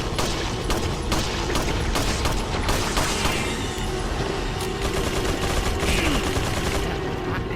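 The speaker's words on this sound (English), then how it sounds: "How is he shooting me through these, like, humongous steel walls?" Continuous gunfire in the Resident Evil 4 video game, a dense, steady barrage of rapid shots and metallic impacts running the whole time at high level with no pauses.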